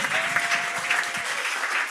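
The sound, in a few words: audience applause at pitch night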